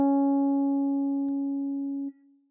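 A musical unison, two identical pitches sounded together as one steady tone with clean overtones, sustained and slowly fading before a sudden stop, alone with no talk.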